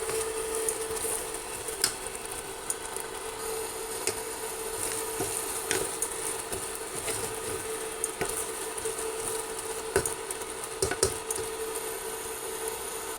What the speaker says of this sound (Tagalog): Luto tayo ng corned beef na may patatas.